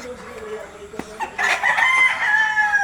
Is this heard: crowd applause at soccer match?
no